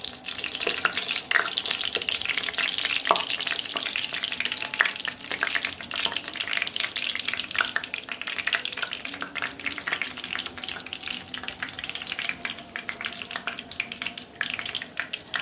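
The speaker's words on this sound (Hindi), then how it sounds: "चले जी, अब हम अपने पैटी को फ्राई करते हैं और बर्गर बनाते हैं।" Chicken burger patties fry in cooking oil in a pan, making a sustained, bubbling sizzle with scattered crackles and pops for the whole stretch, with no talking.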